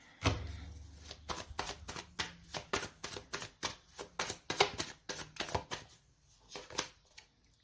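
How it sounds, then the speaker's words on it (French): Tarot cards shuffled and laid down, a rapid run of crisp riffling flicks and soft slaps up close, with quiet handling in between. "Alors, on va mettre une carte dessus."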